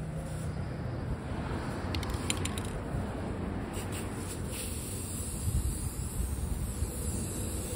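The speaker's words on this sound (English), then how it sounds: "it's still windy. Está haciendo aire." Gusty wind buffeting the microphone outdoors while a Nissan 350Z roof is spray painted, a steady rough rumble with brief hissing spray bursts, no voices.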